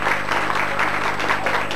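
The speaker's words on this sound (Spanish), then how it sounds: "El aplauso, a ver." Audience applause at a school poetry contest, steady dense clapping from a crowd throughout, moderately loud with no pauses.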